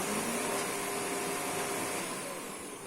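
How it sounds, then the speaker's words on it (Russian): A vacuum cleaner runs steadily indoors, a loud continuous whooshing motor drone with a faint high whine, easing slightly toward the end. "Давайте вот здесь пропылесосим,"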